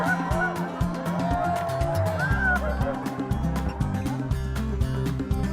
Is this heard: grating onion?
no